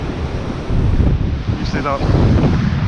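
Strong wind blows across a beach, a loud, steady roar of buffeting wind noise against the microphone with surf underneath, continuous throughout, with a brief voice-like sound partway through.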